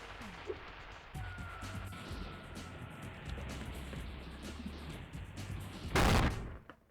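A loud burst of an explosion from the video game Spyro Year of the Dragon, erupting near the end after a stretch of busy in-game noise with repeated popping shots.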